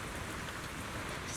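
Steady rain falls in the video game Zenless Zone Zero, a constant even patter on surfaces filling the whole moment, with no voices over it.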